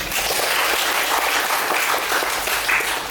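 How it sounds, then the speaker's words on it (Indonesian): Steady, dense applause from a lecture audience at a university session, loud and continuous with no pauses. "Jadi materi kita berikan aplaus dulu"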